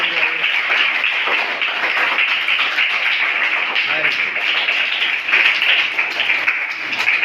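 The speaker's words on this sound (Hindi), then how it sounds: "एक बार अपने लिए जोरदार ताली बजाइए आप सब लोग" Government school children on a Sunday holiday clapping loudly for themselves, a dense, sustained, close burst of many hands with voices mixed in.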